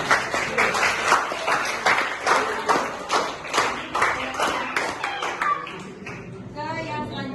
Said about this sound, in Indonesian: Jadi untuk kelompok ini kita beri aplaus dulu ya